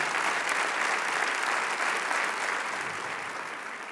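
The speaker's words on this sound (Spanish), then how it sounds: "Vamos, dale ese aplauso." A church congregation applauds during a service, a thick, continuous wash of clapping from many people that eases slightly toward the end.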